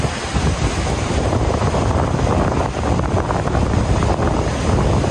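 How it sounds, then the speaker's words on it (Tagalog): Strong wind buffets the microphone in a loud, continuous rush at a Boracay beach, with a broad roar like surf blended underneath. "Mas mahangin ngayon."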